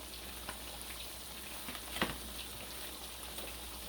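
Chopped onion going into a hot pan for a fried catfish dinner, a faint steady crackling sizzle with one brief scrape near the middle, no voices.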